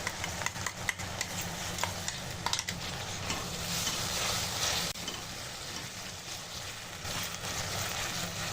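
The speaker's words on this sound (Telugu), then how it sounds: "ఈ పచ్చివాసన పోయే వరకు వేయించుకోవాలి" Vegetables frying in a pan with a tomato and dried red chilli paste give a steady, close sizzle with light stirring scrapes throughout, a constant broadband hiss with no voices.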